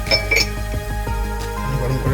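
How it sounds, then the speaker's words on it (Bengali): Tea cups clinking on a hotel room table in Guangzhou, China, with a few bright clinks early and a steady murmur of talk continuing underneath. "চায়ের কাপ"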